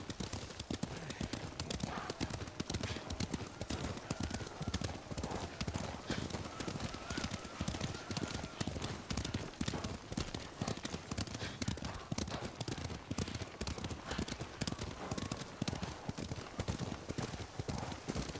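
Horse hooves in the video game Ghost of Tsushima clip-clop in a steady rapid rhythm throughout, fairly loud and close, with a faint whinny and some game sounds in the background.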